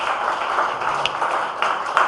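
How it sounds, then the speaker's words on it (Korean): A church congregation claps in praise during a revival service at a Gangnam church, a dense, steady patter of many hands with a few sharper claps standing out, fairly close. "우리 주님께 영광의 박수 드리겠습니다."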